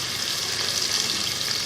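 Boiled beef boti pieces frying in a pan, a brief, dense and steady sizzling hiss heard up close with no speech.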